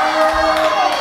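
A wrestling crowd at an IZW Adrenaline indoor show roars and cheers steadily, a dense wash of shouting voices that stays loud for the whole second without letting up.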